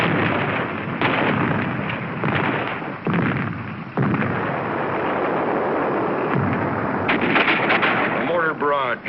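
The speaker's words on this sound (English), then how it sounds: "A mortar barrage searches out hidden machine gun nests." A WWII mortar barrage on Iwo Jima in 1945 rolls on as a dense, continuous rumble, with repeated booming blasts and sharp bursts layered through the whole stretch.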